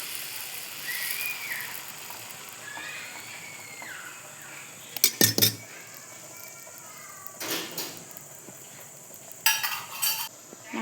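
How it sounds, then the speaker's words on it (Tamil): Curry leaf dosa batter poured onto a hot griddle, with soft sizzling and a few sharp ladle scrapes and clinks against the pan, all fairly quiet and close, with no voices. "வாங்க, தோசைக்கல் சூடானதும் தோசை ஊற்றிக்கலாம்."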